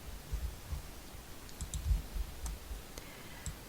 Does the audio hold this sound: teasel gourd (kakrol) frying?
no